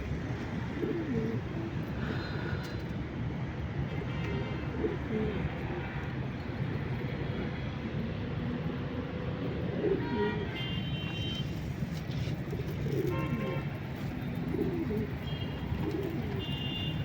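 Pigeons kept in a loft after rain coo steadily and continuously at close range, with occasional chirps and faint traffic in the background.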